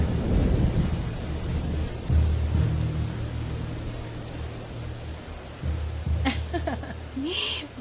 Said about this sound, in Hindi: बारिश हो रही थी।